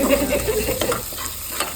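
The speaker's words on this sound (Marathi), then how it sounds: "लसूण मिक्स आणि कांदा परतून घेतलेला आहे" Garlic and onion sizzle in a pan for pav bhaji as they are stirred, a short burst of crackling fry with scraping stir strokes.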